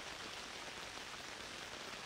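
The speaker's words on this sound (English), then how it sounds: "The soft sounds of raindrops are soothing, helping your muscles to melt downwards." Soft rain patters steadily, a gentle, even hiss of raindrops falling on a surface, quiet and uninterrupted throughout.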